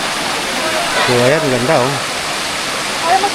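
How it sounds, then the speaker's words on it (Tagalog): A continuous broad rush of water from a waterfall pouring down from above at Nabaroto Falls near Alibijaban Island in San Andres, Quezon, steady and close, with a person talking over it. "Tingnan nyo yung falls nito galing sa taas."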